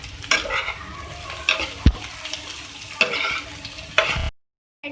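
A spoon scrapes and stirs a sizzling green onion mixture in a pan, with repeated close strokes over constant frying hiss before the sound cuts off abruptly.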